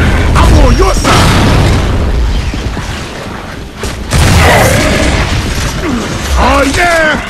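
A frag grenade explodes in the video game Gears of War, a loud, close boom within a dense, chaotic mix of game sounds, with voices shouting over it.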